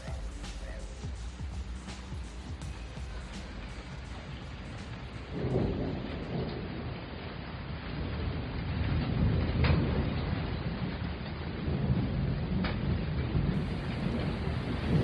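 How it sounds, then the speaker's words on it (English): Steady rain pours outside an apartment in Tokyo during torrential weather, with rolling thunder swelling partway through; constant, fairly close wash of rain throughout. "That's the sound of rain outside of my apartment here in Tokyo."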